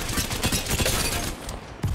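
Dense, rapid bursts of gunfire crackle continuously in the video game Apex Legends, with overlapping shots forming a chaotic fusillade that cuts out briefly near the end before resuming.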